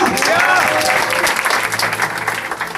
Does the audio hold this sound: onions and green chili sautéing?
no